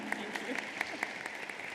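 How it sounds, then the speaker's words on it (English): A small audience at a fintech panel claps for a speaker, a modest patter of separate hand claps heard at a low, distant level. "could we give her a little round of applause to cheer her on?"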